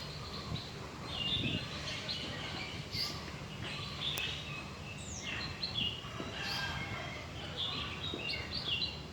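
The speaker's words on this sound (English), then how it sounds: "Every bird song is very pleasant" Birds sing and chirp in a tropical hotel garden in an urban setting, scattered bright calls and tweets over a soft ambient background, fairly faint with no talking.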